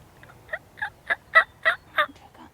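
A wild turkey tom gobbles near a hunting setup in the Michigan woods, a rapid rattling run of about six pulses that is clear and fairly close in a quiet outdoor setting.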